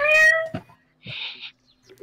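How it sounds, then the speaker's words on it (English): A house cat gives a clear, close meow followed by a second shorter, breathier cry, with quiet pauses between. "Be careful, your cat's gonna wake up my cat."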